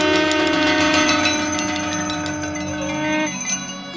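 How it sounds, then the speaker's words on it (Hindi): Temple bells ring continuously at Shantikunj in Haridwar, with a bright, layered metallic clanging that sustains throughout at steady loudness, with no voices. "घंटिया"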